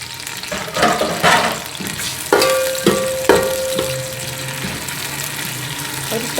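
Sliced onions frying in a pan for a green beans and chicken dish, a steady sizzle with a few stirring scrapes and clatters, close and moderately loud.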